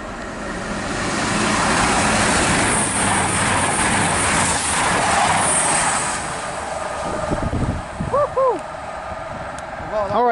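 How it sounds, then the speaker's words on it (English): A Meridian passenger train bound for Sheffield from London St Pancras runs through Loughborough station on the Midland Main Line, a loud sustained rumble and rush that swells and then fades, with a few brief tonal chirps near the end. "passing now is a Meridian to Sheffield from London St Pancras"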